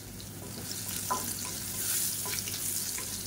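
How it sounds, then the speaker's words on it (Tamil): Three crushed garlic cloves with a little asafoetida fry in hot oil in a pan, a close, steady sizzle broken by a few light stirring taps. "பூண்டு வந்து ஓரளவுக்கு நல்லா செவக்க ஆரம்பிச்சிருச்சு"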